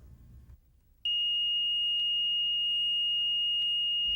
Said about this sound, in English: SmartMonitor2 has a sibling alarm that sounds if the system is turned off without following the